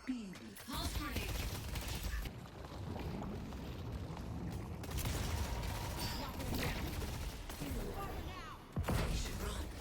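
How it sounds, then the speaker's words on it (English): A pulse grenade detonating in the video game Deadlock, a dense burst of blasts and crackling combat noise that carries through most of the span, with gameplay effects layered over it and a voice talking at times. "Pulse grenade."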